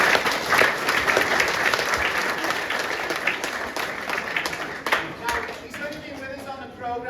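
An audience at a presentation on a player pathway program breaks into sustained applause. The dense clapping is fairly close and steady and fades toward the end.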